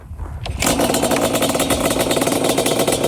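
A ported Yamaha Banshee two-stroke engine is kicked over and catches within half a second, then idles loud and close with a rapid, uneven popping rhythm.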